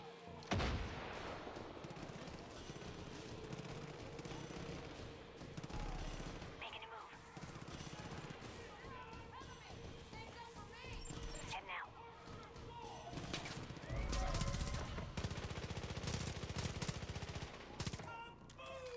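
Rapid bursts of gunfire crackle repeatedly throughout in the video game Far Cry 5, dense and loud, with occasional heavier thuds and voices talking over the shooting.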